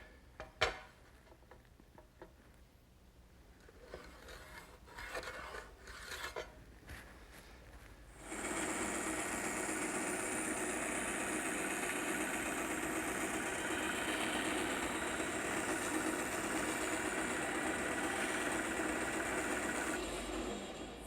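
A bandsaw in a woodworking shop starts up after a few quiet handling clicks and knocks. It settles into a loud, steady whirring drone that runs unbroken to the end.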